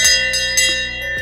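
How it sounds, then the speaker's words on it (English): An old school bell from the Doak House, used to call Tusculum Academy students to class in 1818, rings loudly with about four quick clanging strikes and a bright, lingering metallic ring. "which is the school bell."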